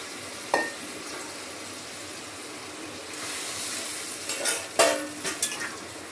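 Hot water goes into a sizzling masala eggplant curry in a pan: a steady soft sizzle broken by a few sharp bursts of hiss and utensil clatter, with no one speaking.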